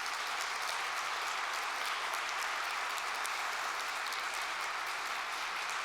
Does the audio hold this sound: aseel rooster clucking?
no